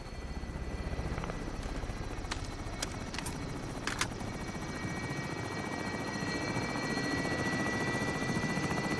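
A helicopter in Call of Duty Warzone drones steadily and continuously at moderate loudness, with a few sharp clicks near the start and no talk.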